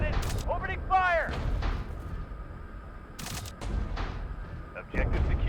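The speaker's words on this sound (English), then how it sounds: "Target spotted. Opening fire." AC130-style heavy gunfire booms out in the sci-fi drone video game Drone Sector, with loud low blasts and bursts spread through the clip, mixed with radio-style chatter and game sounds.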